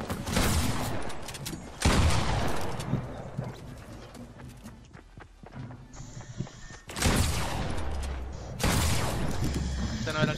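Fortnite gunfire from a SCAR-L assault rifle in a Rumble match, several loud broadband bursts of rapid shots separated by quieter stretches, with game sounds and faint voices in between.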